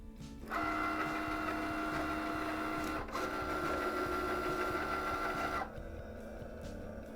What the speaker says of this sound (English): The Cricut will sort which tool is there and then do what needs to be done with that tool.